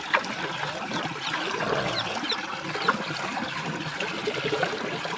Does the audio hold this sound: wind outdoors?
no